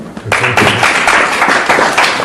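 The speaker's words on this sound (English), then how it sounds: "By applause, photo." Comedy club audience applauding as a show of hands by applause: a dense, steady wash of clapping that swells in after a brief quiet start and holds loudly to the end.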